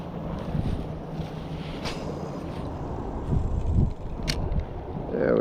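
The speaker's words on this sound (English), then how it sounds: "Can't cast very far going into the wind like that." Wind buffets the microphone on a windy day while largemouth bass fishing from a boat, with a continuous rumbling rush and some gusts, and no talk.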